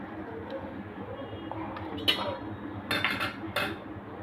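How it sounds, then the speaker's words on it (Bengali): Taro greens are dropped into a metal cooking pot in a village kitchen, with a few clanks and clinks of the pot and utensils over a steady background hum. "প্রথমে আমি একটা পাত্র মধ্যে কচু শাকগুলো দিয়ে দিলাম।"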